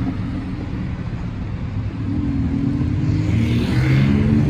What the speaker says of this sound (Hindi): ये जितनी भी जो आवाज़ें आ रही है ना, जैसे सुपर बाइक की तरह ये सब इन्होंने टुक टुक में से आ रही है